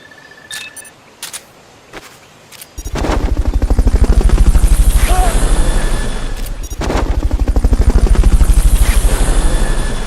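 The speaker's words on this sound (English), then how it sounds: "Fulton recovery subject confirmed onboard helicopter." A helicopter's rotor in Metal Gear Solid: Peace Walker HD thumps steadily and loudly after a few sharp clicks and pops, with rapid chopping pulses filling the air for several seconds.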